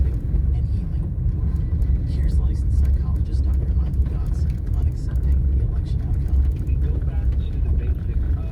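A car on winter tyres creeping at about 20 through a heavy snowstorm, a steady low engine and road rumble filling the cabin throughout, with a person talking over it.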